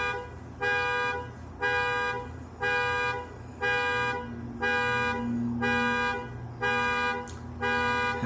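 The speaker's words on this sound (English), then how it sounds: "his goddamn alarm system." A car alarm blares in a repeating cycle of loud, steady horn-like tones, each lasting about a second with brief gaps between, close by and with no talk over it.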